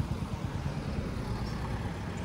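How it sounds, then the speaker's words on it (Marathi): Traffic on a mountain road rolls past as a dense, continuous low rumble of engines and tyres, fairly steady and moderately loud with no talk. "हे बघा कसल्या गाड्या जातात."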